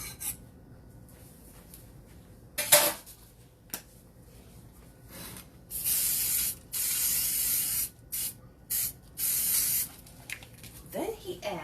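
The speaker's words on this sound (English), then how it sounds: "And we're going to spray the pan." Several short bursts of cooking spray onto a pan, hissing close by in quick spurts with brief pauses, alongside a few soft rubbing sounds.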